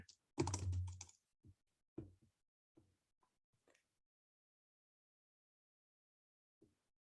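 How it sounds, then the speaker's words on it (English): Keys on a computer keyboard tapped to enter a name into a search box, a short dense burst of clicks followed by a few scattered, isolated keystrokes and long quiet gaps, close and fairly soft. "I'm going to type it in the box here."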